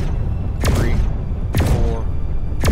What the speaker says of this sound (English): It'll fire 5 shots, and then it has to